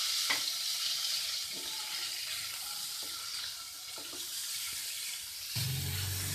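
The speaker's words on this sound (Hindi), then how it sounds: "और इसको फ्राई करेंगे अच्छे से" Continuous loud sizzling of chicken frying in a hot pan, with occasional scraping stirs and a brief bubbling burst near the end.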